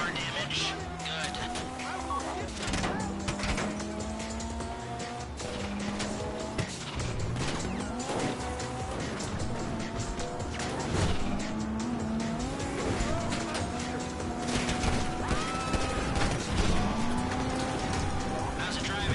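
A wrecked heist car drives in a video game, engine droning and shifting pitch with squealing tires and mechanical clatter throughout, under continuous talk.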